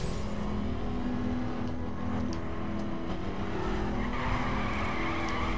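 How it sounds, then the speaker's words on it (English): Tires squeal and skid continuously as a car drifts around Salt Lake City streets in The Crew, the screech sustained over a steady engine drone, loud and close throughout. "I've never had so much fun drifting in my life. This is how good this is. I'm drifting on the straights."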